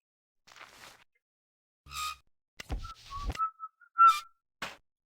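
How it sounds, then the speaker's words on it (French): Person whistling in short, quiet, scattered phrases of thin high notes, with gaps of silence between bursts, heard alone in a Titanic adventure game. "C'est vrai que quand je siffle"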